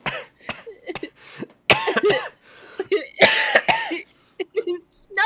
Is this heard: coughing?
yes